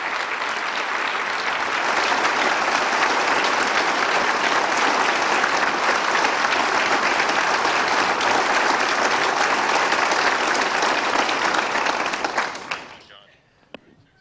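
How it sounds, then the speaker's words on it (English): A large crowd gives a sustained round of applause for Mickey Leland at the 1990 Africa Prize announcement, loud dense clapping holding steady for about twelve seconds before cutting off abruptly into near silence. "Let the whole world give Mickey Leland a great round of applause"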